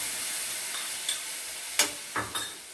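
Ground tomato, chili and ginger paste mixed with yogurt sizzles in a pan for a gram flour urandai sabzi, a soft continuous frying hiss broken by a few close scraping stirs of a spoon.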